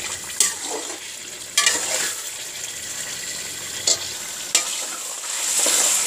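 Beef karahi cooked Peshawari Shinwari style sizzles steadily in a pan, with several sharp scrapes and clinks as it is stirred.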